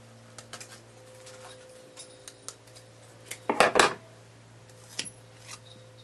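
Scissors cut through card for a die cut card, a few light snips and paper rustles, then one close, louder crisp cutting burst near the middle and faint clicks after.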